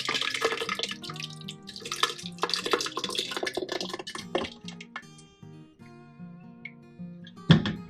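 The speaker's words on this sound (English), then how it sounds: "you're just going to pour it into a blender" Cooked cashews and their cooking liquid poured into a blender: a quiet, close splashing pour with light drips and clinks that tapers off near the end.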